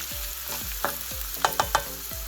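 Maitake mushrooms with shallots and thyme sautéing in a pan, a quiet simmering sizzle under a series of spoon-on-pan scrapes and several sharp clinks toward the end.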